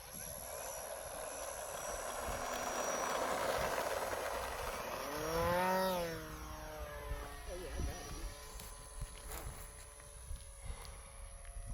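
FMS 800mm P-51D radio-controlled model plane taking off: a high electric motor whine builds, then a rising and falling Doppler sweep as the plane passes close overhead, after which the motor fades to a distant buzz.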